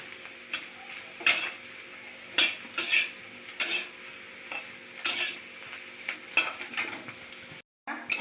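Drumstick leaves dry-fry in a pan without oil as a utensil stirs them, giving irregular scraping and rustling strokes against the metal over a faint steady sizzle, with no talking.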